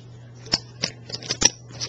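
Poker chips being shuffled by hand, a series of sharp clicky clacks in quick irregular bursts, close and crisp over a faint steady hum.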